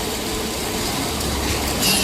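A concrete vibrator gives a continuous mechanical rumble and buzz, like heavy vibrating equipment working nearby, steady and fairly loud throughout, on a building construction site.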